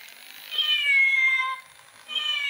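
A plush toy cat gives out two loud, close electronic meows, the first long and wavering, the second starting after a brief pause, with no voices.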